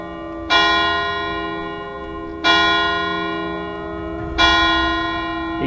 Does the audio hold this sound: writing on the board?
no